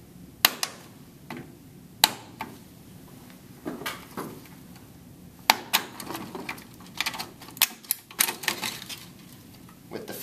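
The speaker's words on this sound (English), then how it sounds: "with a putty knife, pull these clips back" Putty knife prying plastic clips off the front control panel of an LG front-load washer, a series of sharp clicks and snaps at irregular intervals, close and fairly loud.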